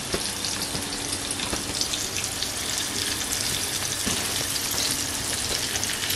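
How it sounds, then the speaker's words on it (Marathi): Mackerel (bangda) fish coated in spice mix fries over a low flame, giving a steady close sizzle and crackle of hot oil, continuous throughout with no talk. "2 बांगड्याच आपण मस्त मोठे मोठे फ्राय करतोय."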